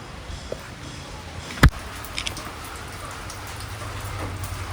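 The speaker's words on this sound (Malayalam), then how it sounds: "നമുക്ക് ഫുള്ള് മഴ പെയ്ത് അടിപൊളിയായിട്ട് കിടക്കുകയാണ്" Continuous rain falls steadily in the background, with one sharp knock partway through and a few faint drips.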